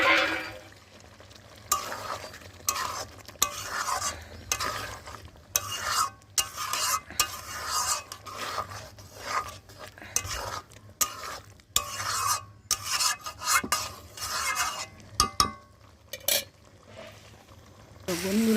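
Boiled potatoes being stirred into a fried spice paste with tomato, with repeated scraping and clattering strokes of a spoon against the pan over a low sizzle, rhythmic and close, with no talking.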